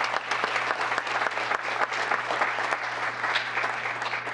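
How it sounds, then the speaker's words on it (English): Audience at a town council meeting gives a round of applause for a state championship team, a steady dense clapping that runs throughout at moderate loudness, with a faint hum underneath and no talking. "Let's give them one more round of applause."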